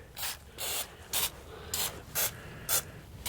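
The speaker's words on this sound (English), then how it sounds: "I'm going to spray some cooking spray in there." Six short hissing bursts of aerosol cooking spray into a baking pan, evenly spaced, close and fairly quiet with brief pauses between them.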